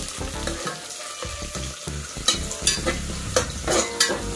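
Onions and green chillies fry in a pan while a spatula stirs them. A close, lively sizzle carries regular scraping strokes throughout.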